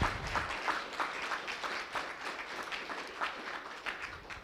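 An audience at a combined town hall meeting applauds a Leader of the Year award winner, with faint, steady clapping from a crowd heard at a distance throughout.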